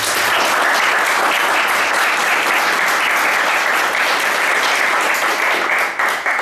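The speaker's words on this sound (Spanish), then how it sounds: "les invito a que nos demos un aplauso" Dense, sustained applause from the audience at a philosophy café session on teachers in the 21st century, many hands clapping steadily and loudly before tapering slightly at the very end.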